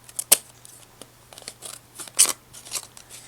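Scissors snipping through plastic toy packaging, a series of sharp clicking cuts with two louder snaps, close and dry against a quiet background with a low hum.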